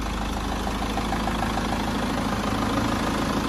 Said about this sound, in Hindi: एमहॉक इंजन हमारा यहाँ थार का स्टार्ट होते हुए